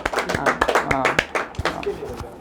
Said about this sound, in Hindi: इसके लिए तो ये ताली बजा दीजिए थ्री का